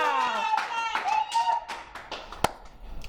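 A congregation clapping in a church, scattered hand claps mixed with singing and voices, ending in one sharp clap.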